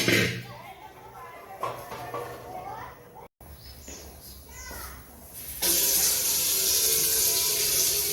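Cooled boiled water pours from a vessel into a container, a steady splashing rush starting partway through and continuing loudly to the end, after softer clinks and faint background voices.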